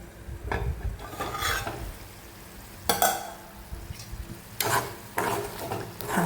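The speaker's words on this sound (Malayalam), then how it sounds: "ഒന്ന് അടിച്ചടിച്ച് വേവിച്ചെടുക്കാം ലോ ടു മീഡിയം വെച്ചിട്ട് നമുക്ക് വേവിച്ചെടുക്കാം" Dried shrimp chili curry cooking in a pan over low to medium heat, stirred in intermittent scraping bursts over a soft steady sizzle, close and fairly loud.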